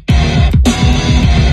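Two drum hits, a deep kick and a snare, repeat in a steady loud beat over dense layered distorted metal guitars, with no voices.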